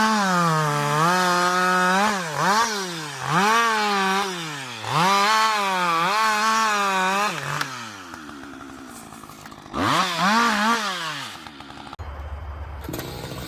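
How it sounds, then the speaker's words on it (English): A chainsaw cuts through tree logs in a snowy forest, its engine roaring in long sustained bursts with rising and falling pitch, pausing briefly between cuts before revving again. "The saw roars, slicing through the air."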